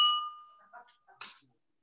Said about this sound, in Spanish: La campana, ay, la campana, la campana.